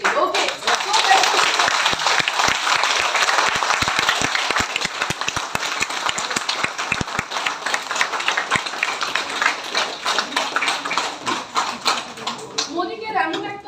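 A seminar audience claps at length in a dense, continuous round of applause, with individual sharp claps standing out, fading near the end as the noise settles.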